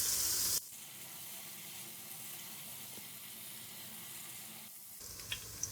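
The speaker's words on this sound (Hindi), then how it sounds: "प्याज को हम हल्का सा फ्राई कर लेंगे" Roughly chopped onion frying lightly in a pan gives a steady, soft sizzle throughout, with a brief louder hiss at the start and a couple of small clicks near the end.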